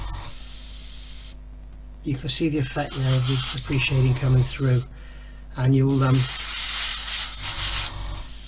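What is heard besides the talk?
spraying paint onto Airfix 1/24 Hellcat model parts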